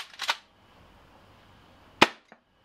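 An airsoft Tokyo Marui M870 shotgun fitted with a retractable gas stock, firing sharp gas pops: a quick double report at the start, then a single loud crack after a pause, followed by a faint click.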